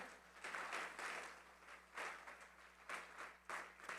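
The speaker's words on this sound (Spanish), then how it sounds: "Yo le daría un fuerte aplauso al Señor Jesús." A church congregation applauds in a sanctuary, faint and distant, the clapping rising in uneven bursts over a steady low hum.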